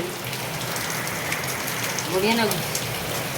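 Steady rain hisses on a surface throughout, a constant wash of drops, with a brief voice rising faintly near the end.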